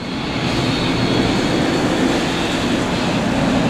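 Hulk roller coaster train rushing past an on-ride photo point, a steady broadband roar of wheels and track noise held at close range for several seconds.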